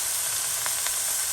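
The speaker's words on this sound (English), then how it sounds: "first thing I'm going to do is I'm going to cook this ground beef." Ground beef frying in a pan gives a loud, steady close-up sizzle, a dense hiss with faint crackles and no voices.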